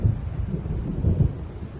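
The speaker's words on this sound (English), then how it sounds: "It seems there's a storm coming." Low, rolling thunder rumbles steadily from an approaching storm in the video game Alan Wake, a dark continuous boom with no voices.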